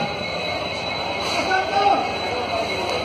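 A train at Khaga railway station in Fatehpur, rumbling steadily with a faint wheel squeal while people talk nearby over the station noise.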